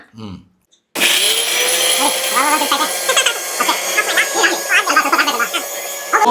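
A mixer grinder whirs loudly as it grinds chilli paste for a Mangalore-style chicken ghee roast, starting abruptly after a short spoken line and running steadily while people keep talking over the motor.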